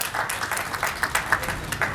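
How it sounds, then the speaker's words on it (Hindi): An audience at an Arya Samaj annual day gathering claps to welcome an arriving guest, a short burst of brisk, closely packed applause with small pulsing swells throughout. "इनका जोरदार तालियों से स्वागत।"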